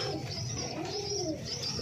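Pigeons cooing softly inside a home loft, low throaty rolling calls repeating at a moderate distance with faint chirps.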